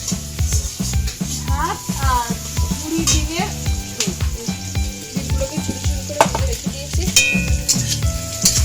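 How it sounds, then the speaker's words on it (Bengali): Eggs fry into crumbly scrambled bits in a pan, sizzling steadily while a spatula stirs and clinks against the metal, with voices talking over the cooking. "এই যে ডিমগুলো পুরো ঝুরি ঝুরি করে ভাজা হয়েছে"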